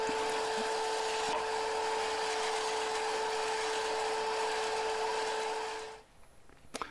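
A power sander works over small wooden pieces with a loud, steady whine and hiss, then winds down and falls nearly silent near the end, followed by a couple of light knocks.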